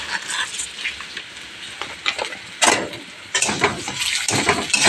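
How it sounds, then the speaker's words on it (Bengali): Lentils frying in a pan with cumin and dried chilli give a steady sizzling hiss, with stirring scrapes and louder bursts of crackle partway through. "ডালটা ভালো করে ভেজে নেব।"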